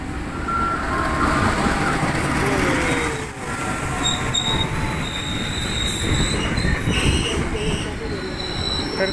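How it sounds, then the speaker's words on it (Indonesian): A long local economy train bound for Kertosono rumbles steadily past nearby at Wonokromo station, its wheels squealing in high, drawn-out tones over the clatter, with indistinct voices in the background. "Kereta api ekonomi lokal itu"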